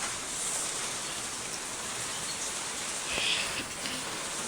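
Steady rain falls outdoors on a windy rainy day among mango trees, a continuous close hiss of drops on surfaces with no talking.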